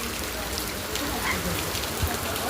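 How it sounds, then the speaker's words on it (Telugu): Heavy rain pounds steadily against the walls of a house, a loud, dense and continuous wash of drumming with no break across the whole stretch. "వర్షం అయితే ఘోరంగా పడుతుంది"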